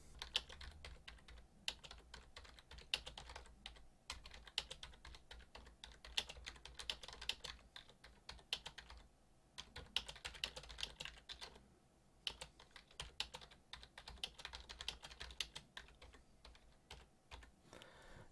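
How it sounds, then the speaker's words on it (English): Steady typing on a computer keyboard with dense, continuous key clicks in a quiet room, captured close and fairly soft, with no voices. "In this paragraph, I'm going to type a longer sentence."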